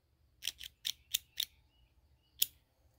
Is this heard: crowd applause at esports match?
no